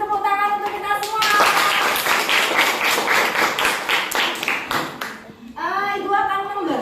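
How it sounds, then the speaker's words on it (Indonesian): Pupils in a classroom clap together after group presentations, a dense burst of hand claps lasting several seconds, with a teacher's and children's voices before and after. "Kasih tepuk tangan untuk kita semua."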